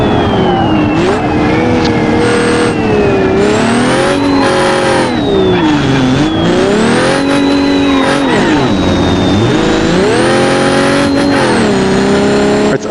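A car engine in a racing video game strains uphill without NOS, revving loudly and continuously with repeated rising and falling pitch sweeps as it accelerates, and no talk.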